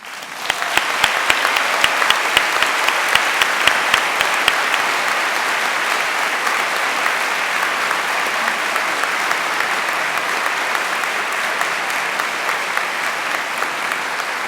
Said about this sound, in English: So why don't you give each other a round of applause?